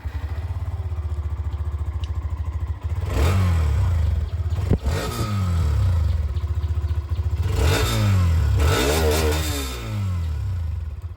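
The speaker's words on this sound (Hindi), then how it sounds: "अब मैं आप लोग को यहाँ पर दोनों ही बाइक की जो एग्जॉस्ट साउंड है वो भी यहाँ पर सुनाना चाहूँगा" A Hero Xtreme 125R motorcycle idles with a steady low exhaust thump, then is revved hard several times in close succession, each blip rising and falling, loud and close with no talking.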